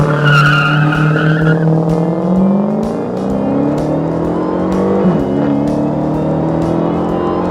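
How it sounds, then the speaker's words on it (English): A 707 hp Dodge Challenger Hellcat launches hard with a loud, close tire squeal over the roaring engine, which climbs in pitch through the run. "That's a pretty good launch."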